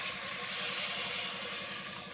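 Water pours steadily from a tap or vessel into a cooking pan of pasta mixed with masala, a continuous even rushing hiss with no break and no talk.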